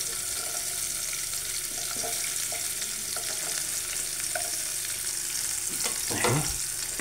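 Thin-sliced onion sautéing in a pan of oil, a steady broadband sizzle throughout with occasional soft scrapes of stirring and a brief louder clatter near the end, no voices.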